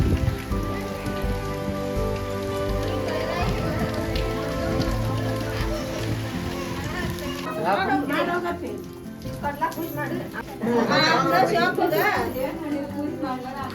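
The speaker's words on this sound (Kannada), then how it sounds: "ಏನು ಮಳಿ ಹೊಡ್ಯಾಕತ್ತೈತಿ" Heavy rain pours onto surfaces in a steady, dense patter outside a math in Dharwad, while voices talk over it and background music plays.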